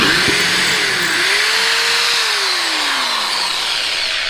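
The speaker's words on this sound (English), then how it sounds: "I'm going through the floor. I'm drilling a big hole." A power drill bores a large hole through the metal floor of a VW Crafter panel van during a conversion, a loud continuous whine whose pitch rises, holds and slowly sags as the bit works through, close up with no talking.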